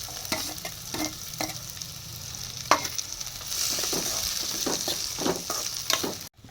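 Chopped onions and green chillies frying in a hot pan, a steady sizzle with scraping stirs and occasional clinks, close and clear with no talk.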